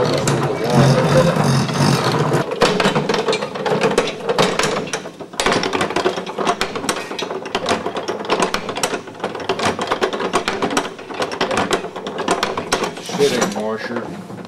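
A hand-cranked rack and pinion washing machine mechanism with a fly ball in place of a flywheel, churning with steady rapid mechanical clatter and rattle, loud and close throughout, with a person talking over it.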